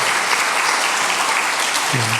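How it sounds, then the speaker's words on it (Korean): Steady, full applause from a church congregation during a Sunday worship service, warm and sustained throughout, with a voice starting up just at the end. "우리 뜨겁게 박수 한번 하십시다."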